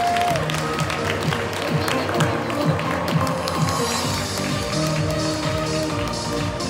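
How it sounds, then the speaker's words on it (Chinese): An audience at a Young Living annual awards ceremony in Hong Kong claps steadily and continuously, a broad wash of applause beneath background music. "接受大家喝彩。"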